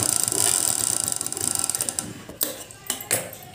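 Sewing machine stitching a cotton dhoti, a fast steady mechanical clatter of the needle that breaks into a few short separate bursts near the end, close and fairly loud.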